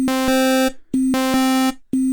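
Default 8-bit engine tone of a Sonicware ELZ_1 synthesizer, a steady bright buzzy held note switching from sine to saw to triangle waveforms in three sustained bursts separated by short gaps, loud and alone.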